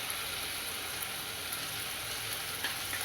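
Ground masala paste hits golden-brown onions in a pan for Kolhapuri mutton curry, giving a dense, even, crackling sizzle that holds steady throughout.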